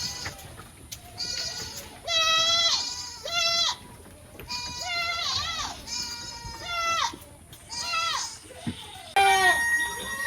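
Sick goats kept in an isolation shed bleat repeatedly, with several loud, wavering calls overlapping through the clip and a voice or children's chatter faintly in the background.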